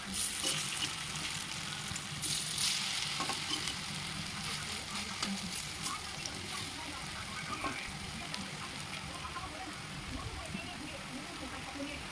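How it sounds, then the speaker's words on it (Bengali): Continuous sizzling of potato and soybean pieces frying in oil, a soft crackling hiss with occasional stirring sounds, heard close and fairly quiet. "উল্টে ভালো করে আর একদিকটা ভেজে নেবো"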